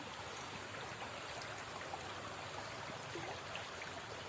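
A river that is not prone to flooding flows past farmland, giving a continuous rushing, babbling water sound that stays even and fairly soft throughout.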